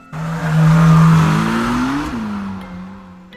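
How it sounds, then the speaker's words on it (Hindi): An old, rusty bus with dim lights draws near, its engine a loud, rough drone with a wavering, rising then falling pitch that swells and then slowly fades, with no speech over it. "एक बहुत पुरानी जंग लगी हुई बस इनकी ओर आ रही है"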